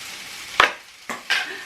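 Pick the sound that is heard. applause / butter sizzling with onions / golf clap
butter sizzling with onions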